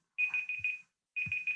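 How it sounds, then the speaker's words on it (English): An alarm clock rings in two short bursts of rapid, high-pitched beeping separated by a brief pause, clear and alone. "that was my alarm clock"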